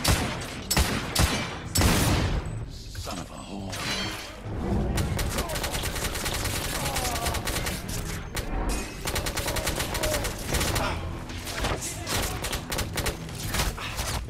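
Rapid automatic machine pistol fire in the video game The Order 1886: dense, continuous bursts of crackling shots with explosions and heavy booms early on, loud and sustained throughout with no pauses.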